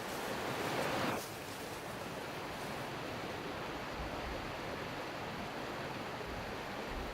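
The Minette river in Brittany rushing vigorously along its bed: a broad, constant roar of flowing water, loud and steady throughout, with a brief louder gush at the start and no voices.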